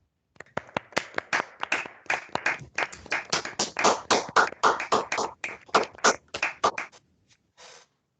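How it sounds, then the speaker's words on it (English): A round of applause at a council meeting, a small group clapping with clearly separated individual claps building to a moderate peak, then thinning out and stopping, with a few stray claps at the end. "Can everyone join me in a round of applause, please?"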